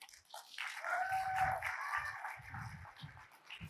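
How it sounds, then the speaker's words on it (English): Applause from a conference audience welcoming a speaker after lunch, a brief burst of clapping that swells and holds near, with some low murmurs mixed in. "So a big warm applause for Wim Vertius."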